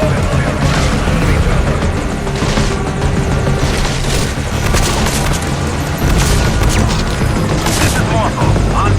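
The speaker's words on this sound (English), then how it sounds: "Our chopper is coming" A helicopter arrives in Metal Gear Solid V: Ground Zeroes during a daytime mission. A loud, continuous rotor roar is mixed with bursts of gunfire and booms throughout.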